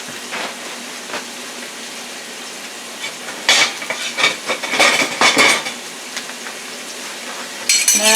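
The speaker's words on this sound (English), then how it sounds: "And we're going to just stir fry these vegetables." Peppers and onions sizzling in olive oil in a pan while being stir fried, with soft frying hiss beneath repeated scraping and clinking of a utensil against the pan, close and fairly loud.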